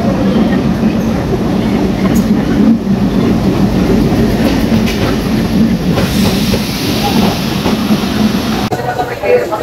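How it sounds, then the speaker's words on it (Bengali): The Rajshahi-to-Khulna Kapotaksha Express pulls into Chuadanga railway station in the morning, a loud, steady rumble of wheels and carriages with rhythmic clatter that lasts throughout. "স্টেশনে আসতে না আসতে চলে আসে রাজশাহী থেকে খুলনাগামী ট্রেন"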